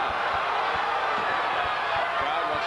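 A high school girls' basketball crowd at a 2003 Illinois quarterfinal between Chicago Hope and Riverton roars in a sustained wall of shouting and cheering, with faint thumps of a bouncing ball underneath.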